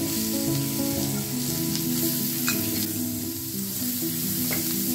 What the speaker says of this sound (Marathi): तर आता हे 1 मध्यम आकाराचा कांदा मी बारीक चिरलेला आहे, तर तो आता कांदा घालतो।